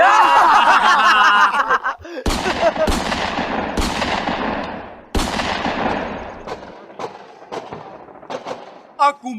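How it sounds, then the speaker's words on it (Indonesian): Gunfire bursts crack out repeatedly in a radio drama, loud and sharp, some in rapid volleys like machine-gun fire, layered under agitated voices and laughter-like sounds. "Aku mendengar riuh tembakan membahana."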